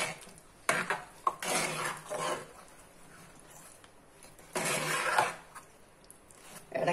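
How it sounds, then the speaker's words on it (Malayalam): A spoon stirs thick banana jam (pazham varattiyathu) in a pan on the stove. Two bursts of close scraping and clinking against the pan stand out between quiet stretches. "ഇടയ്ക്കിടയ്ക്ക് ഇളക്കി കൊടുക്കണം സിമ്മാക്കി വെച്ചാൽ മതി"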